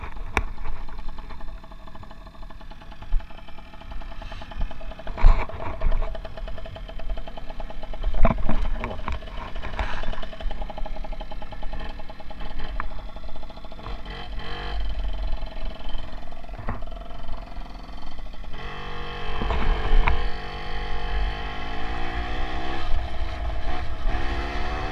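A 65cc Puch moped engine runs and revs unevenly, rising and falling with sharp bursts, sustained throughout at close range.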